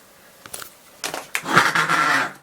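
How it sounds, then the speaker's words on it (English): Wheeled storage containers roll across a hard floor: a couple of light bumps, then about a second of steady rumbling and clattering close by. "they're on wheels, and so I'm only pushing this with my foot"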